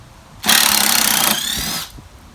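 A handheld power drill backs screws out of the mounting skid of a commercial whole-house reverse osmosis unit, giving one close, loud whirring burst of about a second and a half that drops slightly in pitch before stopping.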